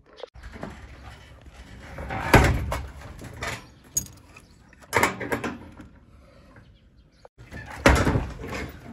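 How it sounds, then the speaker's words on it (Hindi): A door shuts with a solid knock, among a few thumps and rattles spaced several seconds apart over a quiet background. "दरवाज़ा बंद हो गया"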